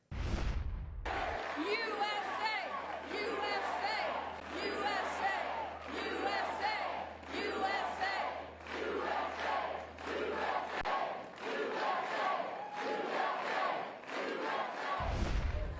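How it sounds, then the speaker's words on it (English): Large rally crowd gathered outside Gettysburg, cheering and chanting in loud rolling waves of massed voices that swell and fall rhythmically, heard from within the throng for the whole stretch. "Here's a clip of the energy of the crowd gathered just outside of Gettysburg."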